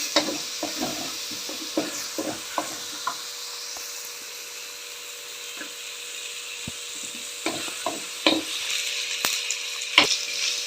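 Ivy gourd with tomato frying in a pan hisses steadily up close, and a spoon stirring through the pieces adds a string of irregular scrapes and knocks.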